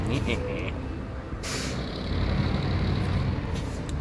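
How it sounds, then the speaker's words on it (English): Air brake on a truck in SnowRunner releasing with a sudden loud hiss midway, set against a steady low engine rumble. "Take my handbrake off."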